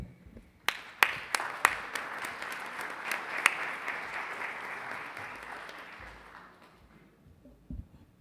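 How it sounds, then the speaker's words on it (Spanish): An audience at a book presentation breaks into applause, a dense wash of clapping with a few sharp, loud claps up front, fading out over several seconds. "aprovechando los aplausos"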